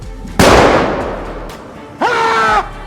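A single loud gunshot cracks out and decays over about a second in a forest setting, followed by a brief roaring, tonal animal-like cry.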